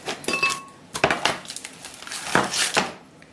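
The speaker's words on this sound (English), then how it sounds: "Now I'm just cutting it using one of our knives" Butter, a 250-gram block, being cut with a kitchen knife, giving several close, crisp blade taps and scrapes against a hard board or dish, spaced irregularly with short pauses between strokes.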